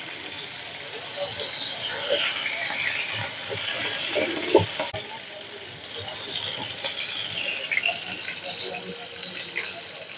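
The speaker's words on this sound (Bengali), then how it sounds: "চিংড়ি মাছটা আমরা ভেজে নেব।" Prawns coated in salt and turmeric frying in hot oil, a steady close sizzle with bubbling crackle and occasional utensil knocks, while a voice speaks faintly in the background.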